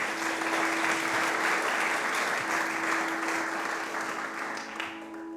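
An audience claps warmly to welcome a speaker at a mindfulness meditation event, steady full applause that gradually thins toward the end, with a faint tone humming underneath.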